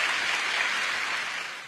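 An audience claps steadily at an outdoor festival evening concert of Teochew opera and skits, a dense, sustained round of applause that tapers slightly toward the end.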